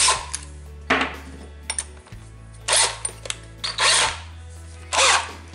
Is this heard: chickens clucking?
no